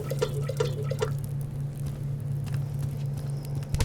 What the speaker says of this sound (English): Get this water cooking as well.